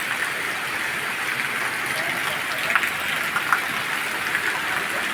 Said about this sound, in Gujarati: અંદરાધાર પાણી ગીરના વિસ્તારમાં પડે